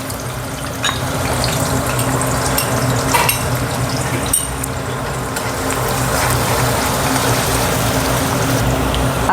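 Chopped onion fries in a pan with a pinch of salt, making a loud, steady, close sizzle with occasional utensil clinks and scrapes as it is stirred.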